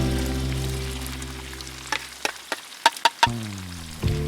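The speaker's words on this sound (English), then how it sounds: "I put over medium heat. I stir for 2 minutes." Paella rice sizzles in a pan over medium heat, a steady frying hiss that thins out as several sharp scraping knocks of stirring break through near the end.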